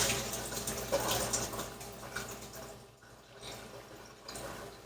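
Running water pours steadily from a tap while freshly grown sprouts are rinsed, a soft continuous splashing hiss that briefly dips before resuming.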